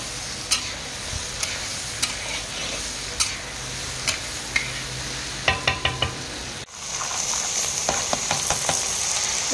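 A local rajma puri mixture fries in a pan in a restaurant kitchen, a constant sizzling hiss broken by repeated sharp scrapes and clinks of a spoon stirring, close and fairly loud with no talk.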